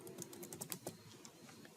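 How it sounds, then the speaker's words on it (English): A password being typed on a computer keyboard: a quick run of close, light key clicks in an irregular rhythm, with no voices. "as of now I'll be typing the password"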